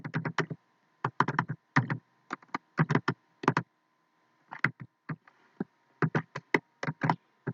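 Typing on a computer keyboard while entering HTML table code, with quick bursts of crisp close key clicks separated by short pauses, no talking.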